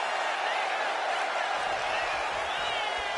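A wrestling arena crowd in the WWE 2K25 video game keeps up a dense, steady roar of cheers for a woman wrestler. The noise is loud and continuous, with no break.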